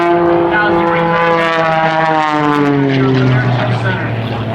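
Propeller-driven aerobatic airplane performing at an airshow, its engine droning loud and close with a strong tone that slides steadily downward in pitch as it passes, a continuous roar for the whole stretch.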